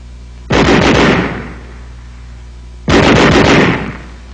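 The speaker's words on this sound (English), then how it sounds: "Weapons giving automatic fire will fire continuously as long as pressure is applied to the trigger" Two loud bursts of automatic weapon fire, each a rapid continuous stream of shots lasting about a second before echoing away, separated by a short pause.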